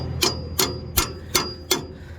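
Five sharp metallic hammer strikes on a 1.5-inch socket fitted to a car axle nut, evenly spaced about a third of a second apart, close and loud with short ringing decays.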